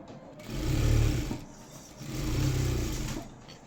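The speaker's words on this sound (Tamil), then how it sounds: "சுற்றி தையல் போட்டுக்கலாம்." Sewing machine running to stitch the lining of a blouse, two sustained humming runs of about a second each with short pauses between, close and steady, no talking.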